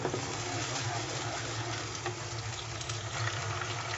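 Chicken frying in hot oil over a medium flame gives a steady, dense sizzle that runs unbroken and fairly close throughout, with no voices.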